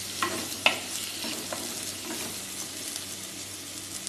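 Squid and curry leaves fry in a pan for a Kerala-style roast, a steady soft sizzle with a few light clinks of a utensil against the pan, heard close with no talking.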